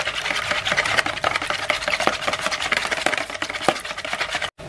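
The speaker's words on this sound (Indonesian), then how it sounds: "kita aduk menggunakan whisker sampai berbusa dan pucat" Eggs being beaten with a wire whisk in a bowl until frothy and pale, a steady fast scraping and clicking rhythm, close and continuous with no talking.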